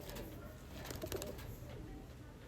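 Andhra Pilanka pigeons cooing in a loft, soft low murmuring coos over a steady background hiss, close and fairly quiet throughout.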